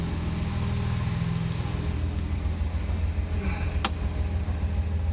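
A 1967 Jaguar E-Type engine sits at low idle, a steady, even low rumble that holds constant throughout, close by, with a brief faint click midway.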